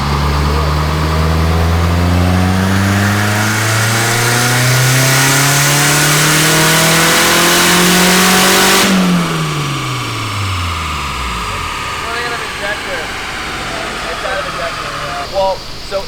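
A turbocharged car engine winds up loud and close through a long rising pull for about nine seconds, then drops sharply and coasts down to a rough idle with faint clicks and a brief voice.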